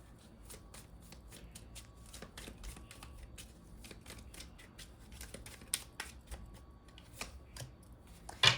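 Tarot cards riffled and slid together in quick, crisp bursts, close and fairly quiet, with a few sharper taps as a card is drawn near the end; no one speaks.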